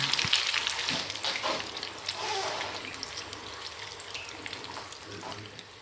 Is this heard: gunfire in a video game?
no